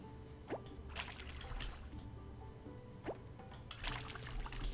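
A watering can pours water over crops in the farming game Coral Island, giving repeated wet drips and soft squishy splashes over a steady game background, with no talking.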